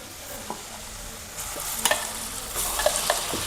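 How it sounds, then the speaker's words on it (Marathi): Finely ground dal frying in hot oil with garlic, curry leaves and asafoetida, soft sizzling under stirring scrapes with a few sharper utensil clinks. "आता ही बारीक डाळ केलेली घालतो यात"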